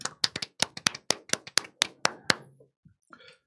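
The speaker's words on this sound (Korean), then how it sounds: "박수 한번 쳐주세요." Roughly a dozen sharp, separate hand claps ring out at an uneven pace, close and distinct, then trail off into a couple of faint stray sounds, like a small group or a single person clapping.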